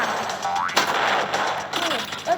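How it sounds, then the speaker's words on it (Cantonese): Blox Tales video game combat with clustered explosion and gunfire-like bursts, dense and loud, plus springy boing-like effects in the game's sound mix. "一嘢爆炸咗之後咧"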